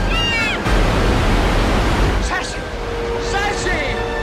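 A roaring waterfall from the Homeward Bound film scene where a cat is swept over the falls makes a loud, steady broadband rush, joined later by shouted voices and brief music.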